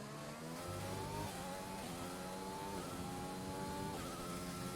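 A Formula 1 car in a racing video game roars down a straight at the Abu Dhabi Grand Prix, its high-pitched engine note climbing through repeated upshifts, loud and continuous.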